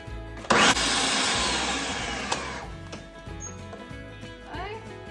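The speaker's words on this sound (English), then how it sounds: "we're going to blend this up with my food processor" A food processor blends lemon juice with a sugar-free strawberry cheesecake popsicle mixture, starting with a loud burst of whirring that settles into a steady grinding hum and slowly fades.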